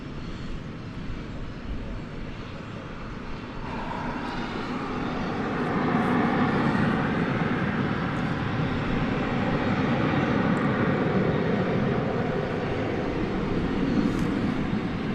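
A Qantas Boeing 787-9 Dreamliner passes at DFW Airport, a broad, moderately distant jet rumble that swells after a few seconds and then holds steady with no voices.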